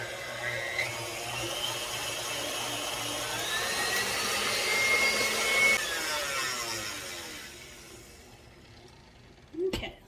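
Electric mixer running on high, beating cheesecake filling with granulated sugar: a steady whirring motor drone that swells slightly mid-way, then cuts off near the end with a brief clatter.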